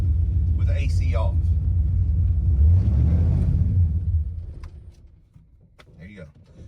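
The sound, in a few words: Holley EFI car engine idling in gear, almost stalling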